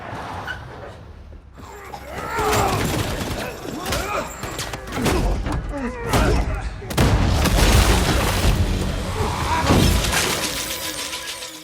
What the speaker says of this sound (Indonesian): Hatch juga meledakkan gudang tersebut sehingga seluruh uang milik Lendina hangus terbakar